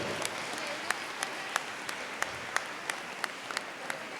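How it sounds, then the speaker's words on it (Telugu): An audience at a youth retreat Mass claps for the priest, a soft crowd applause marked by regular, evenly spaced claps that keep a steady rhythm. "గురువు గారికి ప్రతి గట్టిగా చప్పట్లు కొట్టండి"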